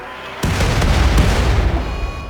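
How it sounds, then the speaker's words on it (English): Mortar shells exploding in the video game RimWorld, a sudden heavy boom followed by a dense rumbling roar and a few sharp cracks layered on top, loud and close throughout. "Those mortar shells are really chipping away at the arena itself"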